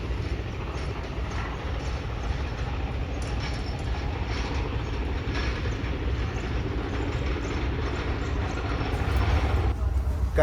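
A train rumbles steadily along the Karachi–Lahore railway on the Karakoram Express in winter, a continuous loud rolling roar with faint rattling, close and unbroken, shifting slightly near the end.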